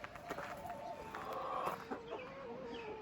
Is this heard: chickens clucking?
yes